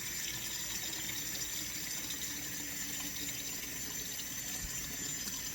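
Water running steadily from a kitchen tap into a pot of potatoes, a continuous close hiss and splash with no pauses.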